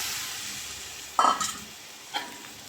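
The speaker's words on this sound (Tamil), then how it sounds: "கொத்தமல்லி, புதினா சேர்த்து 1 நிமிஷம் நல்லா வதக்கிட்டு 200 கிராம் இஞ்சி பூண்டு பேஸ்ட்டு சேர்த்துக்கலாம்" Coriander, mint and ginger garlic paste sautéed in oil for chicken biryani, with a steady sizzle under a few clanking stirs of a spoon against the pot, close by and without speech.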